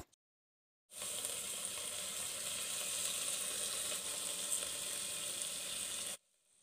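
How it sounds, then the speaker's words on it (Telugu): Rock salt and chili powder frying in hot oil for soya pulao, producing a loud, dense, steady hiss that starts abruptly and cuts off about five seconds later, close by, with no voices. "ఒక టేబుల్ స్పూన్ కళ్ళుప్పు, ఒక టేబుల్ స్పూన్ కారం కూడా వేసి ఫ్రై చేస్తున్నాను."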